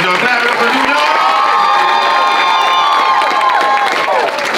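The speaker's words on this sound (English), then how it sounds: "Clap it up for DoKnows, y'all" A large crowd at a sold-out comedy show cheers and shouts loudly and continuously, with excited voices and whoops blending into a sustained roar, close and unbroken.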